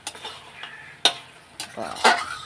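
Mutton sautés in a pan as a spoon stirs it, giving a few sharp metallic clinks and scrapes over a faint, quiet sizzle.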